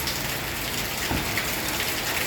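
Steady broadband rain falls through the whole stretch on a cattle-grazing pasture in Surin, Thailand, a dense even hiss of drops hitting surfaces with no voices.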